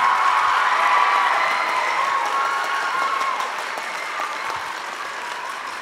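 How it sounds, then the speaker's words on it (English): Audience applause for 7th and 8th grade bands at a school spring band concert: a loud, dense wash of clapping with a few cheers, sustained throughout and slowly tapering off. "let's have a nice round of applause for all the"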